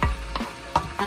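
Pork for pork and beans sautéing in a pan, with a few short stirring scrapes and sizzling bursts at a steady, close-up level, no voices.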